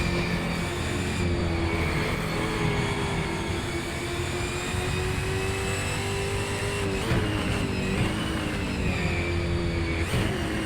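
A Ford 351 V8 touring car from the 1976-era Australian Touring Car Championship races at Bathurst in Assetto Corsa, its engine droning and shifting pitch over a steady loud race roar, with brief surges as other cars pass.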